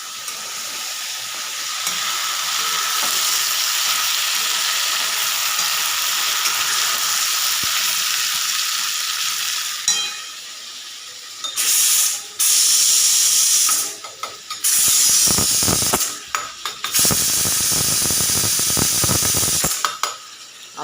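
Eggplant frying in a pan gives off a steady hiss and sizzle at close range for about ten seconds. Clattering bursts of stirring or handling noise then break into it before it settles back to sizzling.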